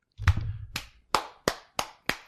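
Six sharp hand claps ring out alone over about two seconds, the first slightly rough with a low rumble beneath, then crisp evenly spaced slaps with short decays.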